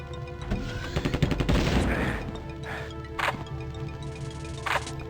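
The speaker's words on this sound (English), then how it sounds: "The Seeker Mine has a smaller explosion." A Seeker Mine explosion in the video game Terminator Future Shock goes off as a dense burst of crackling blasts and debris, followed by two shorter, sharper bangs later on. No one speaks over it.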